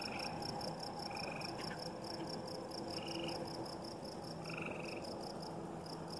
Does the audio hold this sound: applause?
no